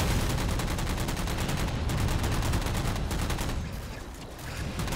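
Dense, continuous gunfire from Halo 4 multiplayer as a player fires long-range at enemy Mantis mechs, loud rapid bursts overlapping without pause, easing slightly near the end.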